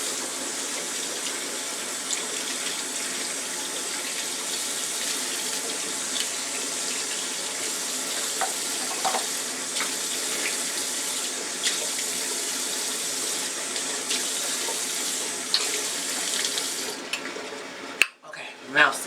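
Tap water runs steadily into a bathroom sink during rinsing, a continuous close hiss that carries almost unbroken before a brief clatter near the end.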